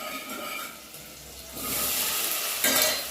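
Chopped garlic cloves and vegetables fry in hot oil for vegetable fada khichdi, a steady broadband sizzle that swells louder partway through, with faint stirring, no talk.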